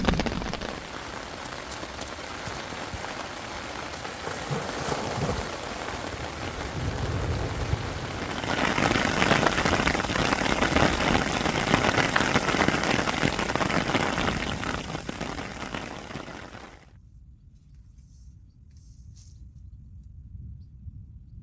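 Heavy rain pours down at a fishing spot with float and feeder rods set up, a steady loud hiss drumming on surfaces for most of the stretch before cutting off abruptly to a quiet background.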